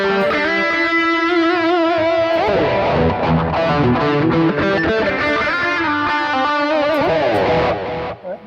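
Distorted electric guitar through a BOSS eBAND JS-10 delay plays a sustained melodic line with echoing repeats trailing each note, loud and continuous until it fades at the end.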